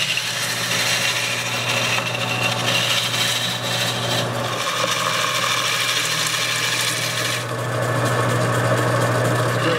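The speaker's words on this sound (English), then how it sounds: "Since the lathe is shaking, the bench is shaking" A wood lathe turns a bowl with a steady low motor hum and continuous rubbing, scraping texture from the cutting, its vibration rattling the workbench; loud and close throughout, with no talking.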